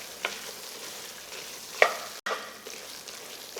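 A roux with vegetables stirred in a gumbo pot, soft sizzling under scraping spoon strokes and a few sharper knocks against the pot.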